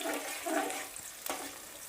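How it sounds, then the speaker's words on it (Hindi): Onions sizzle in a pan with black cardamom and spices, a soft, steady hissing fry with a faint crackle, fairly quiet and with no talking. "अब हम इसको थोड़ा सा भूनेंगे"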